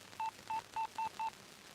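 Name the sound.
telephone dialing tones while calling a broker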